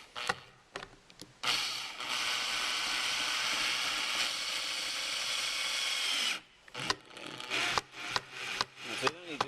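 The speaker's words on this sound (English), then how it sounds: "we grab the drill driver" A power drill driver whirs steadily for several seconds at close range while fitting interior coat hooks in a Range Rover Evoque, then stops, followed by scattered knocks and brief handling noises.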